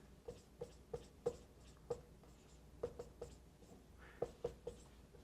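Pen or pencil scratching out numbers by hand during a linear algebra help session, a quiet series of short, irregular taps and strokes close to the mic with no talking.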